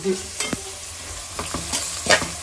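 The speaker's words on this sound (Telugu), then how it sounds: "ఇదిగోండి ఉల్లిపాయలు ఇంకా బాగా వేగాలి" Onions fry in a pan in a small home kitchen with a steady low sizzle, while a utensil stirs and scrapes in several sharp, close strokes.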